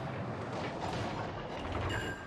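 Warship guns booming in a naval combat game, Bismarck, a dense run of heavy artillery blasts and rumbling impacts filling the short span at steady loudness.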